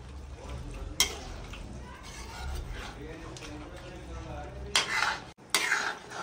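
Jackfruit curry being stirred in a pan, a steady scraping and mixing close by with a few sharper clanks of the utensil against the pan toward the end.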